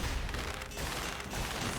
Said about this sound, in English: the explosions do have a wider AoE on the elites